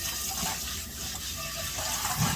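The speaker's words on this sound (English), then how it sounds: "So let's get some cold water in here." Cold water runs from a tap in a steady, full gush into a cast iron pan during rust restoration, close and continuous for the whole stretch.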